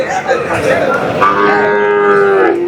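A cow moos loudly at a Kundadam cattle market for native Kangeyam-breed cattle, one long drawn-out low call held for over a second against a busy market background.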